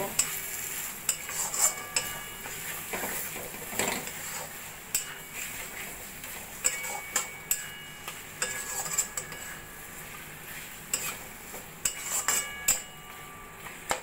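Mutton kosa is stirred with garam masala and slit green chillies in a pan, a spatula scraping and clinking against the metal in quick irregular strokes over a faint sizzle, close by and with no talk.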